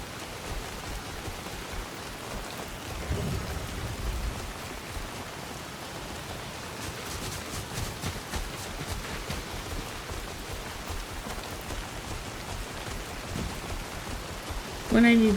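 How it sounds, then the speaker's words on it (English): Steady rain in the video game Soulmask patters and hisses throughout, a soft continuous wash of drops with faint low rumbles, ending in a short louder tone. "It chose now to rain though."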